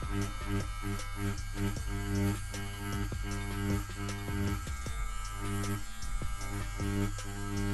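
Tattoo machine needles buzzing steadily while shading gray tones into practice fake skin, a continuous close motor whir with rhythmic pulsing that runs the whole time without pauses.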